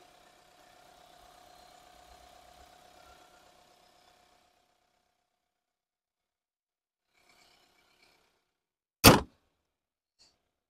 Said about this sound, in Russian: Мотор просто шепчет.